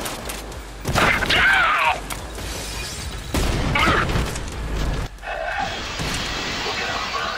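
In the shooter game Trepang2, frag grenades go off in loud, heavy booming blasts with crashing debris amid gunfire, while voices shout over the combat.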